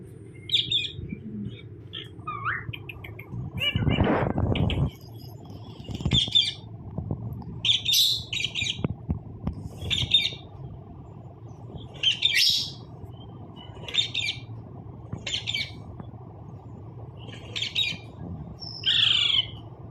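A green ringneck parrot gives repeated sharp squawks and chirping calls at intervals, close and fairly loud indoors, with a steady low household hum underneath.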